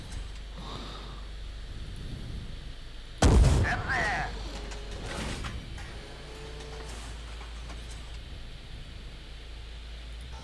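An M1 tank fires a single round from its main gun. It lands as one sudden, heavy boom that fades out over a second or two, over steady background rumble.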